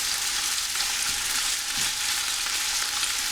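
Bacon frying in a pan, a loud, steady, close sizzle that holds constant throughout with no talking.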